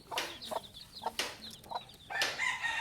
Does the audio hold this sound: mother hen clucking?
yes